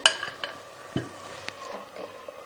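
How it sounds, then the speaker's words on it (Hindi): Chickpeas are stirred into fried masala for Lahori chikkar cholay: a few scattered spoon knocks and scrapes against the pan over a faint, low sizzle. "अब हम इस टाइम पे चने शामिल करते हैं"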